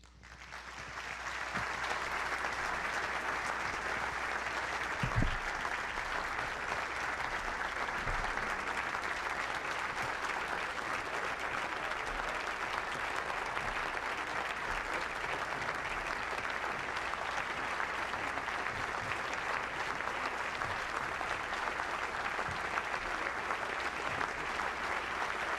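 Continuous audience applause greets candidates at a presidential debate, starting abruptly and holding at a steady, dense level throughout with a hall-like wash.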